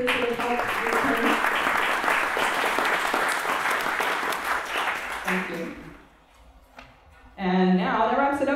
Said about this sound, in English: If everybody will just give a short round of applause for all the volunteers who have helped.